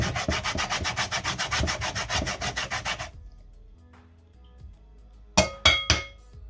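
Rapid rhythmic rasping of lemons being zested on a grater for a lemon tart, about twenty quick strokes over three seconds, then quiet and a few sharp knocks.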